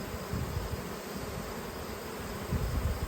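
Honey bees buzz steadily around a hive outdoors, a continuous low droning hum from many insects with slight swells in loudness, close and alone with no voices.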